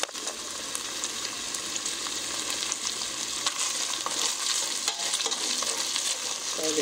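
Chicken strips fry in a pan for yakisoba, a steady bright sizzle with occasional crackles and the scrape of stirring, fairly quiet and continuous with no voices.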